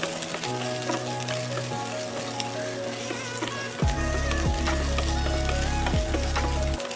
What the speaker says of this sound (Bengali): দিয়ে এটাকে ভালো করে ভেজে নেব এই সবজিগুলো